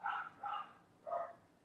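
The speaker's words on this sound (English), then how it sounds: "Excuse my dogs barking." Dogs bark faintly in the distance, giving three separate harmonic barks, two close together and then one after a short pause, with a low background hum between them.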